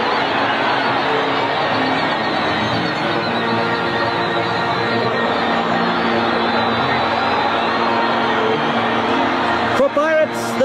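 Dense, steady roar of a large football crowd at the 1981 Mainstay Cup match between Kaizer Chiefs and Orlando Pirates, cheering continuously throughout with a broad wash of voices and no clear breaks.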